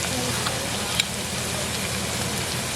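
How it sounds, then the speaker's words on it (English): Saffron sizzles in hot oil at the start of a curry mango, a soft, steady frying hiss with faint crackles throughout, quiet and close, with no voices. "You always want to cook your saffron at the beginning in the oil"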